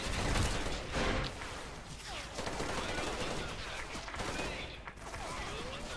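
Dense, rapid gunfire crackles continuously in a video game, with bursts of shots layered over one another and brief voices faintly underneath.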